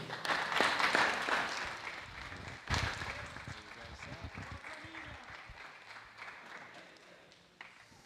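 Crowd applause rings out for the podium finishers of a motor-racing B final, loud at first and then thinning and fading, with a few sharper bursts and a voice talking over it.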